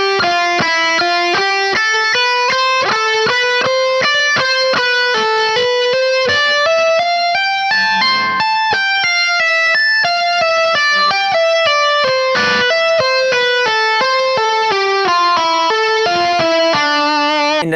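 A continuous distorted electric guitar passage flows from a fast picked run into a tapping section, with rapid rhythmic note sequences shifting in pitch and played loud throughout with no talking.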